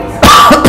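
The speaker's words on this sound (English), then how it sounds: "got a little bit of a cough." A single harsh cough, loud and close, from someone with allergies, followed by a second shorter cough burst, heard on its own.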